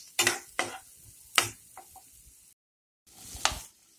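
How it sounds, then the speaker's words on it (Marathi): Bursts of crackling sizzle as mustard seeds and turmeric hit hot oil in a tempering for pumpkin curry, several short loud bursts separated by brief pauses, close up with no voices. "छान खरपूस अशी फोडणी आपण तयार करून घेतलेली आहे"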